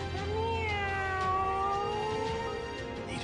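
A person imitating a cat's meow in a Chinese martial-arts drama: one long, drawn-out, wavering mew-like wail, held close and loud for about three seconds with no other speech.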